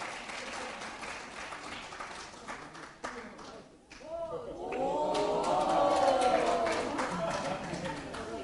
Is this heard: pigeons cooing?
no